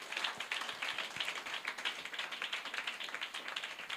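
Church congregation clapping loudly during a sermon, a dense run of sharp, rapid claps from many hands that keeps a steady, busy rhythm the whole way through with no talking over it.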